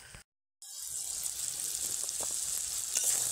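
Spice masala stir-fries in a pan for an egg tadka. After a brief silent gap, a continuous hiss of sizzling runs close and steady, with a few soft scraping stirs and no talking.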